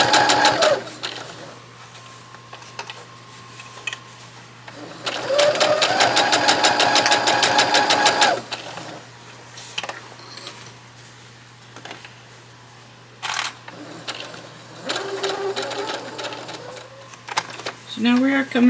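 Sewing machine stitching an apron strap, running in several loud, steady bursts separated by pauses, with a person talking between and over the stitching runs.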